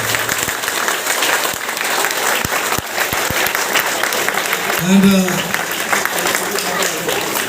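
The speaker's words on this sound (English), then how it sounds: "So big round of applause for the actors." An audience applauds student actors after a school play, steady clapping filling the room throughout, with a brief spoken word from the stage in the middle.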